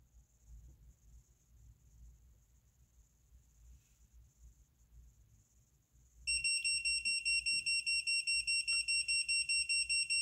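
A handheld Seesii X4A gas detector reacting to lighter gas, a faint steady tone at first, then a loud rapid electronic beeping alarm starting midway and pulsing repeatedly to the end.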